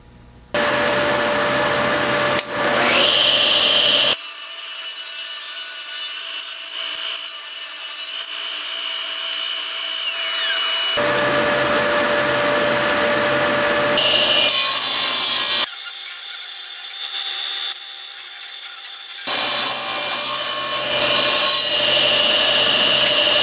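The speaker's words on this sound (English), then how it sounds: "Now we just have to mill down some white oak, 1/4 inch thick by however much wide" Power tools milling white oak stock down to quarter-inch thickness, loud bursts of machine cutting and sawing noise that start and stop several times, with whining motor tones between cuts.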